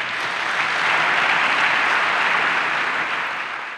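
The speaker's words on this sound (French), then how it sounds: "Et je voudrais pour cela vous faire bénéficier d'une salve d'applaudissements." Sustained applause from an audience at a forum opening ceremony in Pointe-Noire, a dense, steady wash of many clapping hands, loud and even throughout, tapering slightly at the end, with no talk over it.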